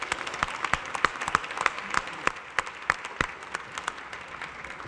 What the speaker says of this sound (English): give yourselves another round of applause for being here tonight